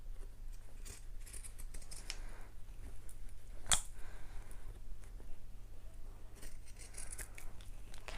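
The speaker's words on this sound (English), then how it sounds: "I find it easier to cut it so that I can see the seam in front of my pinking shears rather than behind" Pinking shears snipping through the fabric lining seam of a bag: quiet, crisp cuts over a low steady hum, with one sharper snip standing out near the middle.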